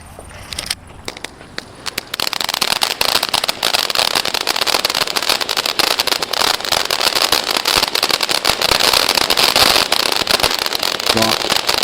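A firework fountain from Sivakasi hisses and crackles steadily for several seconds after a brief quiet start, a loud continuous spray of sparks.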